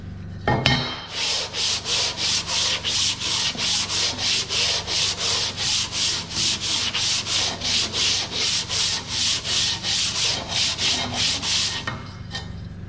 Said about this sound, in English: I'll run it on the sander one more time over there, the surface sandpaper